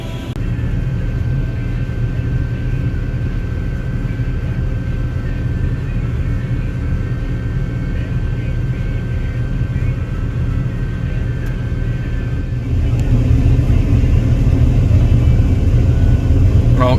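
A 9600 combine harvester's engine drones as it drives along a road, a loud, steady low rumble heard from nearby that swells slightly heavier toward the end, with no talk over it.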